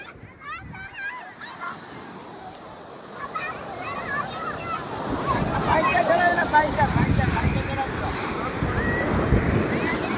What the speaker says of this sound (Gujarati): તમે મોજાનો અવાજ સાંભળજો